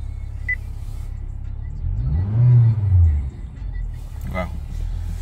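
A 2014 Honda Accord, put in drive but failing to move, has its engine revving up in one low swelling rise and fall near the middle, heard inside the car over a steady low cabin rumble.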